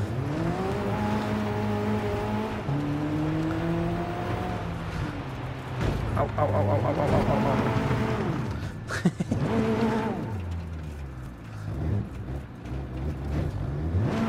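A race car engine in Gran Turismo Sport revs and shifts through the gears, pitch climbing and dropping over repeated accelerations, loud and close, with a brief tire squeal and a short spoken exclamation.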